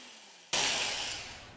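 A guitar string being unwound at full speed makes a sudden loud, bright whirring rush that starts abruptly and holds steady, easing off slightly toward the end.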